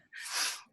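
A single short sneeze bursts out close by, a sharp breathy rush lasting under a second in an otherwise quiet room.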